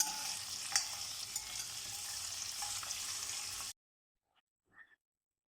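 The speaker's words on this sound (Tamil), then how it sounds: "அதுக்கு ஆனியன்ஸு இந்த அளவுக்கு வதங்கினா போதும்." Onions and chillies sauté in a pan for lemon rice, giving off a steady close hiss and sizzle for several seconds. The sound then cuts to near silence, broken by a faint tap or two.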